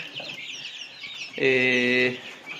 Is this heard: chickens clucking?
yes